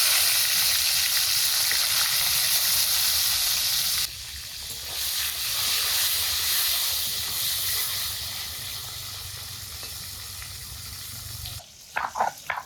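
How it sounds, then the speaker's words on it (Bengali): Shol fish sizzles and hisses steadily as it fries in hot mustard oil in a very hot kadai, a loud continuous broadband crackle that persists for most of the span before cutting off near the end with a few clattering sounds. "এখনই মাছগুলো দেব আর সবগুলো একসাথেই দেব"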